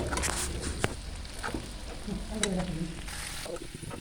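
Onion, ginger and garlic fry in a hot pan for a pork and jackfruit dish, giving a loud, steady sizzle close up with occasional stirring scrapes and spits.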